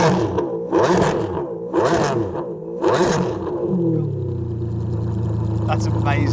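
A Ferrari Enzo's engine revs hard three times in quick succession, each rising roar falling away, then settles into a steady idle, loud and close with voices around it.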